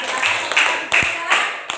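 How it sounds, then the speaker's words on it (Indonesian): A classroom audience claps for a presenting group, with several sharp, loud hand claps at irregular intervals in a short burst. "Coba tepuk tangan untuk kelompok 4."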